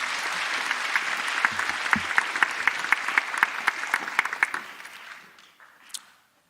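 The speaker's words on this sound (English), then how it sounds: "One more round of applause." Audience applause at a school endowment awards assembly, steady dense clapping with sharp individual claps for about five seconds, then fading to a few scattered claps.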